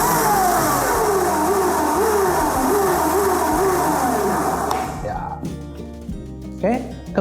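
A Firman FEC58V cordless electric chainsaw runs with a steady whirring drone that cuts off partway through, leaving faint clicks and handling noises.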